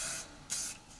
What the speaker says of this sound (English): trying not to spray my wall.